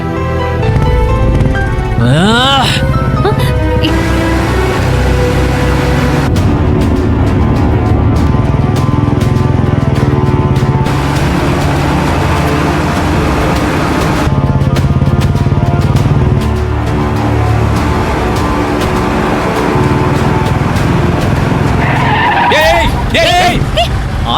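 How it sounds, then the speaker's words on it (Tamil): A car driven fast on a road skids, with loud screeching tires and a roaring engine that run almost nonstop for the whole stretch, and brief voices cut in near the start and end. "எக்ஸாம்க்கு டைம் ஆகுது, வண்டியை வேகமா ஓட்டு. இப்ப பாரு என் ஸ்பீட."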